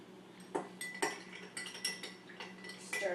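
Three antacid tablets drop into containers, making several soft, close clinks and taps at uneven intervals against a quiet background, with no one talking.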